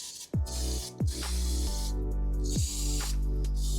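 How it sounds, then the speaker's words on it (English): Würth brake cleaner sprayed in short close hissing bursts while cleaning spilled oil during a CVT fluid change on a Geely Emgrand, several loud blasts over a steady background hum. "I'm using Worth brake cleaner because this is really good on removing oils."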